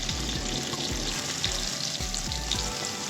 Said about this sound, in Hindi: ऑयल अच्छे से गर्म हो गया। अब इसके अंदर हम प्याज ऐड कर देंगे।